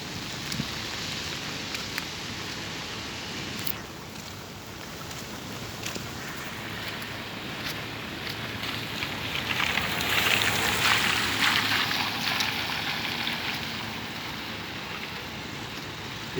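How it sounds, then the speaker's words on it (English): Steady rainfall hisses outdoors, a dense continuous wash of drops that swells louder midway, with no voices. "It's really raining."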